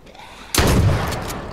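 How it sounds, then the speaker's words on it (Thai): A single loud, booming gunshot bursts out in the video game H1Z1, then rings and fades briefly, with no talking over it. "มีคนยิง มีคนยิงมีคนยิง"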